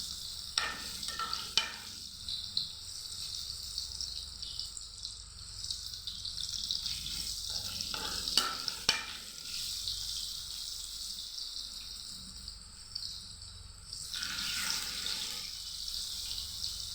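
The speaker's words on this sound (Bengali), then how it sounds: "আলুগুলোকে আমি একদম সোনালি কালার করে ভেজে নিব।" Potato pieces fry golden in oil for a vegetable biryani, a steady soft sizzle near the mic broken by occasional stirring scrapes and clinks.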